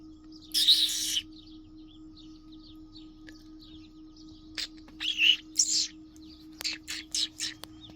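A bird calls in short bright bursts and chirps, a few near loud notes followed by a cluster of quicker calls later, over a quiet background with a steady low hum.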